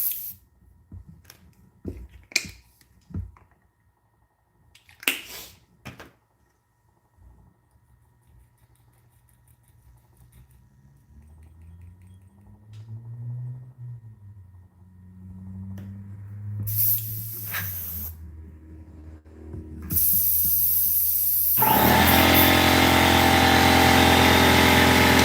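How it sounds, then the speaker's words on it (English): An airbrush is cleaned out by spraying while its compressor runs. Scattered clicks and a low motor hum come first, then a loud, steady broadband hiss of spray takes over for the last few seconds. "let's get this airbrush cleaned out a little bit"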